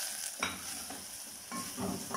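Soft scraping strokes of a spoon stirring a flour, spice and salt mixture in a pan, a few slow passes over a quiet, steady sizzle.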